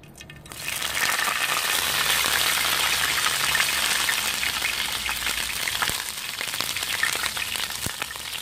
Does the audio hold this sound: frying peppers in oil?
yes